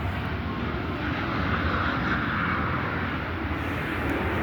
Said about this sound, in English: Oop, there goes an airplane.